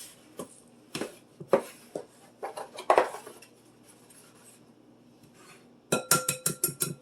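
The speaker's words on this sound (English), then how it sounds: "I'm going to start by cracking a couple of eggs." Eggs cracked into a bowl for a meatloaf mixture, with scattered knocks and clatters of shells and dishware, then a quick run of sharp taps against the bowl rim at the end.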